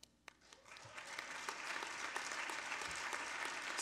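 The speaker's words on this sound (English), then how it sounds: "I want you to stand up and give yourself a big applause." An audience at a UN International Women's Day celebration bursts into applause, starting with a few scattered claps and swelling into dense, sustained clapping that fills the room, fairly distant and soft.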